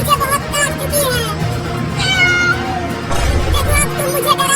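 A cartoon cat meows repeatedly in rising, drawn-out cries over busy background music and effects, with lively character voices talking alongside.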